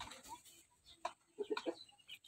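A Japanese Shamo chicken of the Gohan line gives several faint, short clucks in a quiet backyard, a brief cluster of soft calls midway with little else around.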